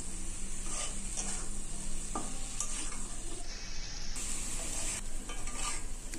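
Spice masala sautéed with fried potatoes in a pan for a Bengali egg dish: a constant sizzle and hiss with a spoon scraping and stirring through it, close and steady throughout.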